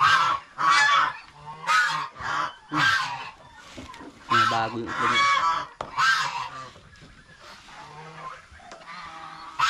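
Geese on a small backyard farm that also keeps ducks and turkeys give loud, close honks in repeated bursts, with a person speaking briefly between calls.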